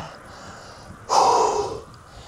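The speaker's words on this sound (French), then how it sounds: "Désolé pour l'essoufflement" A single heavy, breathy exhale close to the microphone after a hard uphill bike ride, rising suddenly and trailing off over about a second, like winded panting.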